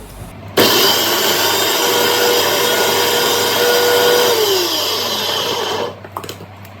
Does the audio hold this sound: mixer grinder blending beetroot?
yes